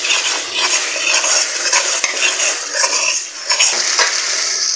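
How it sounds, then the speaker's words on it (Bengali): Spice masala of turmeric, chili, coriander and cumin powders with salt is stir-fried in a pan, loud close sizzling with repeated scraping spatula strokes in an uneven rhythm. "হলুদের গুঁড়া, মরিচের গুঁড়া, ধনিয়ার গুঁড়া, জিরার গুঁড়া, লবণ দিয়ে মশলাটা ভালোভাবে কষিয়ে নিয়েছি।"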